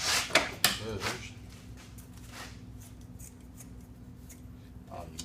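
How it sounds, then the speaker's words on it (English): A few quick, crisp snips from scissors close by, followed by quieter rustling and handling in a calm room. "Scissors."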